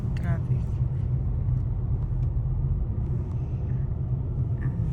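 Steady low rumble of road traffic on Highway 401 in Canada on a Saturday, a continuous dense drone of cars and heavier vehicles with no single pass standing out, heard alongside faint talk.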